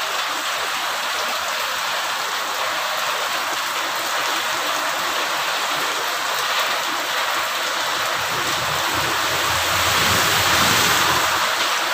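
Heavy rain pours steadily outside a home in a downpour threatening flooding, a loud, unbroken wash of hissing and drumming that stays constant throughout with no voices.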